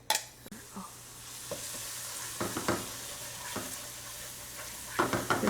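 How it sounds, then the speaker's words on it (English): Green onions and garlic sizzle in a hot pan with cauliflower, a steady fry hiss broken by several stirring scrapes and clatters, close and fairly loud with no talking. "I'm just gonna go ahead and add my green onions and garlic."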